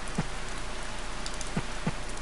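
Steady rain in the farming video game Harvest Moon falls as an even, continuous hiss, with a few soft low taps on top and no talking.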